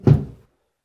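A single dull thunk as a stuck door in an abandoned farmland house is tried, close and brief, fading quickly into silence.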